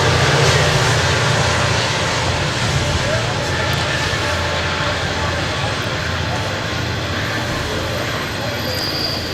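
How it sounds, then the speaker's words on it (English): A train rumbles past continuously in the background at a lawn bowls triples quarter final, a steady broad roar that holds at even loudness throughout. "And there goes the train."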